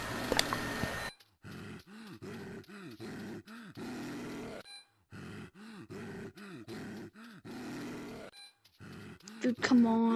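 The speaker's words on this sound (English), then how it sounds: "what the hell is that loud breathing sound?" Loud, heavy rhythmic breathing from an unseen creature in a horror video game, with repeated gasping inhales and exhales in bursts, broken by short silences and a sharp tone near the end.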